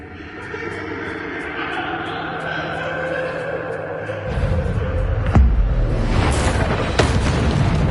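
Heavy booming blast of a Bombarda explosion spell in Hogwarts Legacy, a rumbling burst bursting in midway over a background of rhythmic ticking and game ambience, followed by sharp crackling impacts.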